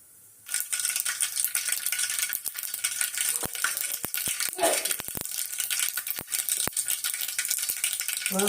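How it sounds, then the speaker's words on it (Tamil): Mustard seeds crackle and pop in hot oil in a pan, a close sizzling hiss with scattered sharp spatters and rattling bursts that starts after a quiet opening half second, with no voices. "கடுகு நல்லா பொரிஞ்சது."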